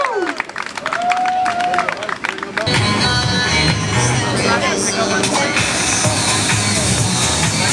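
Audience applause and cheering for a high school dance team, rising after a brief lull into a loud, sustained wash of clapping and crowd noise that fills the rest of the stretch.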